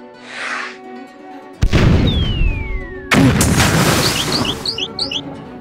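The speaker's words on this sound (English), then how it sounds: "Dodge those cannons." Cannons fire in a Paper Mario video game: two heavy booming blasts about 1.5 seconds apart, each followed by rumbling decay under game effects and chirpy musical blips.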